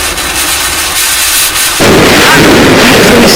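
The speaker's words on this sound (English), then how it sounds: "I decided to light fireworks in my room" Fireworks lit indoors in a bedroom: a quiet stretch, then a sudden loud burst at close range that becomes a sustained roaring, crackling blast filling the room.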